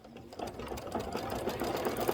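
A Kimberbell embroidery sewing machine stitches out fabric with a steady, fast mechanical whir and rapid needle chatter, close and continuous throughout.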